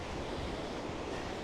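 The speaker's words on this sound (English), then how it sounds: "because of the high waves and rough sea" High waves on a rough sea at Puerto del Carmen, Lanzarote, roar as a steady, dense wash of surf with wind buffeting, continuous and fairly loud with no voices.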